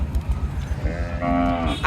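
At a busy village cattle market, a cow lets out a short moo near the end over a noisy, rumbling crowd background.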